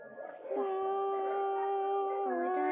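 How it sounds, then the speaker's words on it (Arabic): A dog howls in one long, sustained, wavering cry that rises and bends in pitch, loud and close, with faint background noise before it starts. "سوري يا جماعة على صوت الكلاب."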